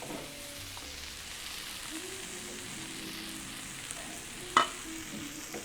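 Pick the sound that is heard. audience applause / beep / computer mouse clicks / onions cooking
onions cooking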